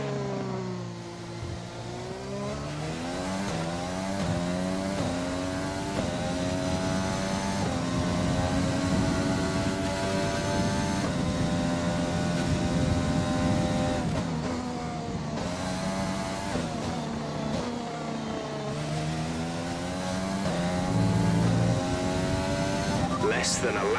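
A Formula 1 car on the Japan circuit in the F1 2020 video game, its high-pitched engine whining steadily and continuously, rising and falling with gear changes throughout, loud and close to the listener.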